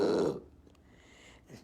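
A single short, low, throaty dry belch, close and fairly loud, followed by a quiet pause and a faint trailing vocal sound.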